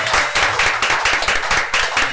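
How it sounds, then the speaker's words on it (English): Applause at a city commission meeting in South Bay, Florida, honoring Roosevelt Elementary School: steady, dense clapping from a room of people, loud and close throughout. "Give Roosevelt a bigger applause, a bigger applause."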